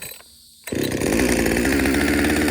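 A chainsaw that had refused to run is pull-started: a short quiet stretch, then the engine catches abruptly and roars loud and close, running steadily at high idle.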